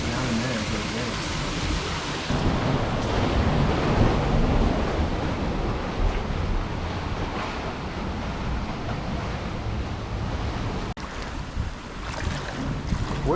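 Ocean waves slam against rocks on the shore of a small tropical island, a loud, continuous rushing surge with wind noise, close by and without pause.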